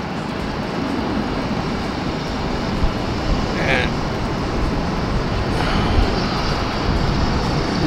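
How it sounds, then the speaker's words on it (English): An ANA airliner comes in to land at Tokyo Haneda Airport, heard from the tarmac as a steady, broad jet roar that stays even throughout, with no clear peak. "you see an airplane coming in"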